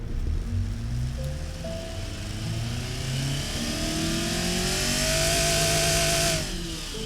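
An engine built in the Automation car designer and driven in BeamNG revs up in a quick pull, its pitch climbing through rising harmonics to a loud high-rev peak before dropping off, heard alone without talk.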